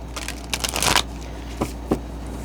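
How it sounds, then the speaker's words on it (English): A deck of tarot cards is shuffled close up: a quick riffling burst of crisp, papery flutters, then two separate soft taps as the cards settle, with no speech. "I'm going to shuffle it one more time."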